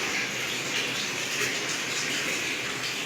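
Tap water runs at home once the supply comes back on, a steady, moderately quiet rushing gush with no pauses.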